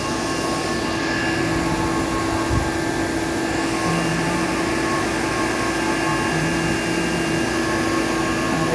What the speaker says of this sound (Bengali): তারপরে দেখতে পাবেন এখন প্রিন্ট করছি, প্রিন্ট শেষ করতে দিচ্ছি।